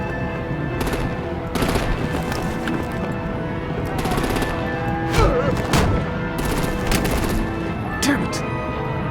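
Video game gunfire in a Batman game, rapid bursts of automatic shots rattling over a dense, loud battle background of rumbling and clatter, in several separate volleys.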